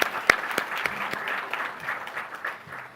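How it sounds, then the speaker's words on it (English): An audience at an event gives a brief round of applause, a dense, fairly soft wash of clapping with a few sharper claps close by, steady throughout. "Can we have a huge round of applause for Sir?"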